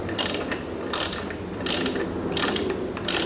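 A ratchet with a 21mm socket tightening a front brake caliper bolt on a C7 Corvette Stingray Z51, giving four short close bursts of rapid clicking with brief gaps between them.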